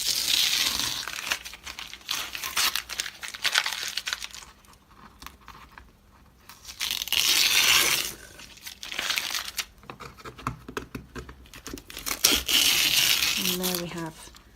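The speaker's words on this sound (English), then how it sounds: "Now to finish this off, just remove the tape." Masking tape is peeled from the border of a Pebeo 4Artist marker oil painting in long crackling, tearing pulls separated by quiet pauses, with a brief voice near the end.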